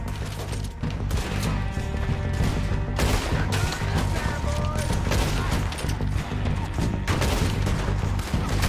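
Gunfire in the video game Red Dead Redemption: dense bursts of shots and loud cracks over an intense battle mix, with someone shouting in between.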